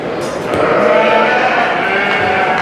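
Sheep bleating at a livestock prospect show ring, a steady dense chorus of many animals layered together, fairly loud and continuous with faint crowd murmur underneath.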